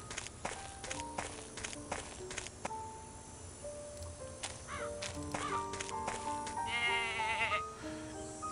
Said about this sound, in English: It's a goat! Flee!